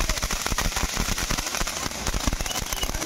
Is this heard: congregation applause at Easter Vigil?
no